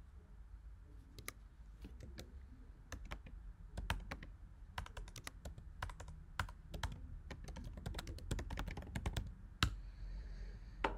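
Someone types on a computer keyboard with quick, uneven bursts of sharp key clicks over a quiet low hum, ending with a couple of louder strikes.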